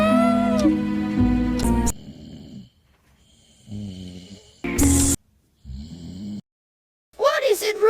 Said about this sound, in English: You were snoring too loud